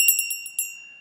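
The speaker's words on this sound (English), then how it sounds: "a silver plate bell that I bought from a small antique mall" A small silver plate altar bell rings near and bright, struck several times in quick succession, then its clear tone fades out.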